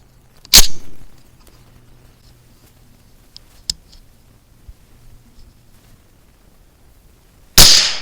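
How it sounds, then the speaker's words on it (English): A single sharp rifle shot cracks out early while a scope is zeroed on a bullseye target, followed by quiet range ambience and a few faint clicks, then a second loud report near the end. "Alright, took the first shot."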